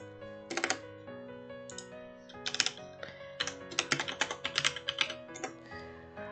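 Steady typing on a computer keyboard, close and fairly quiet, with irregular bursts of key clicks that quicken into a dense run near the end, under a soft background hum.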